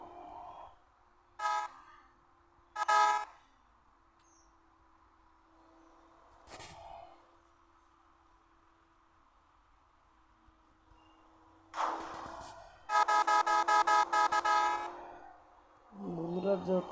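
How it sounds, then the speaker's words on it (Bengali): Vehicle horns blare on a road between Chuadanga and Jhenaidah in Bangladesh, a couple of short toots early, then long loud honking near the end, with a voice talking at the close. "যত হর্ন বাজে এদের কানে লাগে না"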